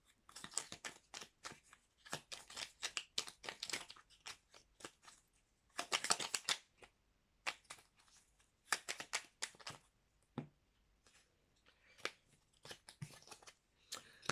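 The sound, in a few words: shuffling oracle cards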